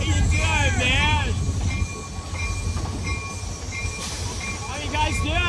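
A running train gives a steady rumble and rail noise, with a long horn-like tone and faint wheel squeals. Voices talk and cheer over it for most of the clip.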